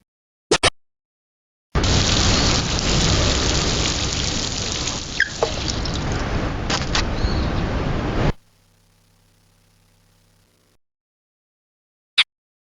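A rainstorm with thunder and lightning in the PlayStation game Serial Experiments Lain: a loud steady wash of rain lasting several seconds, with a sharp thunder crack midway, then a quiet low hum and a few isolated clicks.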